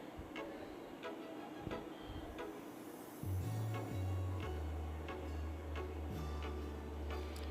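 Scissors cutting fabric for a young girl's pants, a steady series of soft, close clicking snips at an even pace, joined partway by a low background hum.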